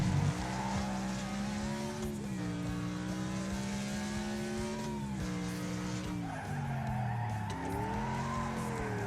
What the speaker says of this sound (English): that was actually pretty good on the power sliding scale there